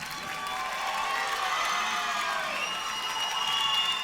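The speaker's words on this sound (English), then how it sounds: "please a round of applause for the challenger, Jared Lara" A kickboxing crowd at a super middleweight bout cheers and shouts continuously, a dense roar of voices and whoops with applause underneath, steady and fairly loud throughout.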